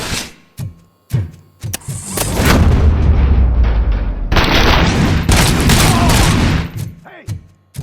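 Sustained bursts of gunfire from RoboCop: Rogue City fill the scene, with a few sharp single shots, then a dense, loud, continuous volley lasting several seconds before tapering off into more isolated blasts.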